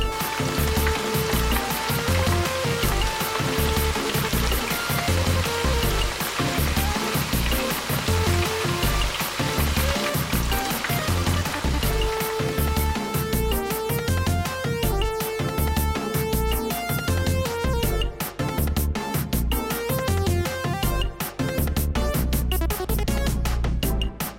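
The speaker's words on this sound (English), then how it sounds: "we're just gonna heat that up. Just wanna bring that up to a boil, reduce it down to a simmer for about 5 to 7 minutes" A sesame-seed sauce simmers in a pan at a dense, steady bubbling sizzle that stays loud and continuous throughout, with no talking.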